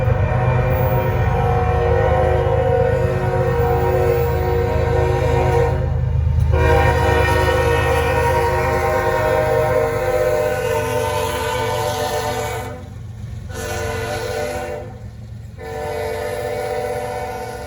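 A short Norfolk Southern northbound freight train rolls past on a cold day, a loud sustained rumble of wheels and engine under repeated blasts of its horn, with the horn dropping out briefly in a few places.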